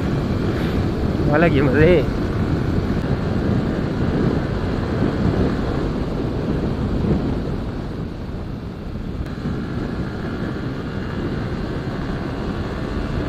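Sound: cool wind while riding a motorbike

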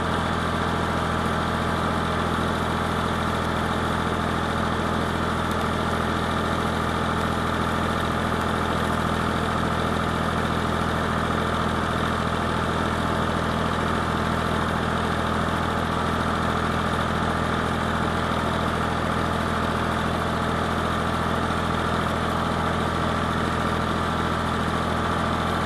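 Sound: vehicle engine running while climbing a hill

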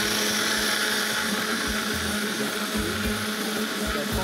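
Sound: blender mixing aioli sauce

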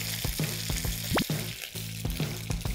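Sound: golden oysters pan-frying in hot oil

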